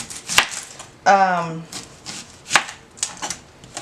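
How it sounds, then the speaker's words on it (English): A knife chops an onion on a cutting board for pico de gallo, making a few separate, sharp thuds spaced apart, with a brief voice sounding between them. "just chopping this onion"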